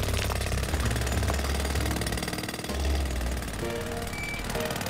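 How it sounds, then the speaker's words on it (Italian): A loud, steady mechanical drilling roar runs throughout a children's cartoon scene, a harsh continuous buzz with a few small tonal cartoon effects layered on top, without speech. "Una magnifica trivellazione!"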